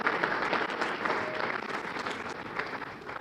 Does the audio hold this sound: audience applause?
yes